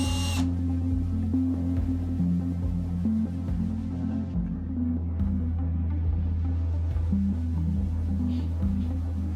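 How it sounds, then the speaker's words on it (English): A power drill bores three holes into the dash panel of a 2024 Ram 2500 while a switch panel is fitted, whirring steadily and loudly throughout with a throbbing low hum and pulsing changes in load. "drill 3 holes into the dash panel"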